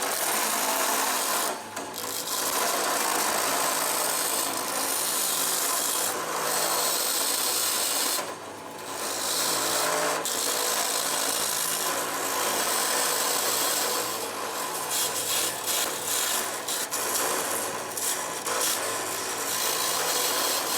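A wood lathe spinning at 3,450 RPM while a carbon-tipped chisel turns a pen blank, a steady close hiss and scraping rasp that rises and dips as the tool bites.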